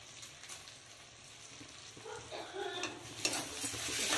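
A spoon stirs salt, turmeric and cumin powder into potatoes frying in a pan, making steady scraping strokes over a soft, continuous sizzle that grows busier and louder toward the end.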